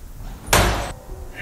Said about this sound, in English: A ghost could literally just slam the door,